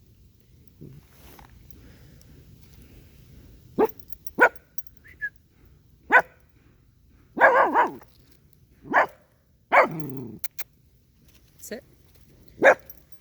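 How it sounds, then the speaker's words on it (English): A dog barks in sharp, separate bursts at hammering in the backyard, several single barks and a couple of longer ones, close by, with a person giving brief commands between them. "She's barking at them hammering in the backyard."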